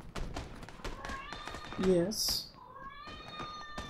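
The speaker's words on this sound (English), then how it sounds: "I also have the most vocal cat in the world" A house cat gives a short, loud meow partway through, with rising and falling cries standing out over ongoing talk and light taps from a gaming setup.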